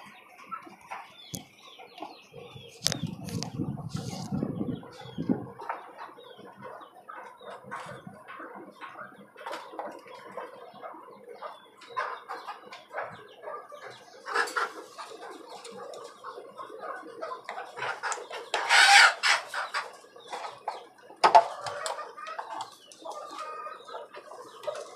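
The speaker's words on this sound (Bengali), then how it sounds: "আর এখানে আমার আরো কিছু বাচ্চা মুরগি আছে" Young native chickens kept on a rooftop farm cluck and peep in scattered bursts, with occasional wing flaps and a louder squawk near the end, close by with no talk.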